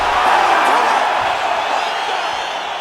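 Crowd cheering in a UFC 5 video game fight, a loud steady roar of arena noise that swells and then slowly eases off.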